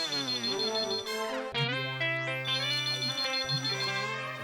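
A melodic phone ringtone plays continuously, a bright repeating electronic tune with rising chirps, fairly loud and close with no talking.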